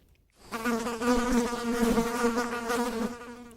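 A steady, close insect buzz of flies, humming continuously with a wavering drone for a few seconds after a brief quiet start.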